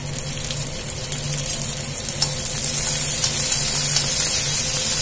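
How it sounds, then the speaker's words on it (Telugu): Tomatoes going into a pan of sizzling garlic, onion and green chili for a drumstick-leaf tomato curry, a continuous close frying hiss that swells louder partway through, with no talk. "వెల్లుల్లి, ఉల్లిపాయ, పచ్చిమిర్చి అయితే కొంచెం వేగిపోయింది కదా. ఇప్పుడైతే టమాటా వేసుకుందాము."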